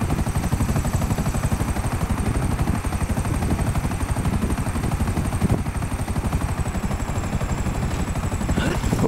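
A helicopter in the video game GTA 5 before a skydive, a dense, continuous rapid rotor chop that is loud and unbroken throughout, with no talking.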